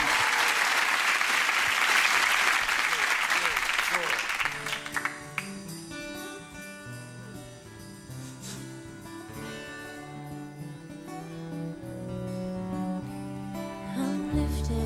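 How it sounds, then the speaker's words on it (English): Loud audience applause and cheering fills the opening seconds at a live finale event, then gives way to a band starting a song with sustained music. "So round of applause for them"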